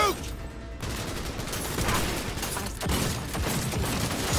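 Gunfire in the Cyberpunk 2077 video game: dense, continuous bursts of shots and impacts fill the whole stretch at steady loudness, with game voices mixed in underneath.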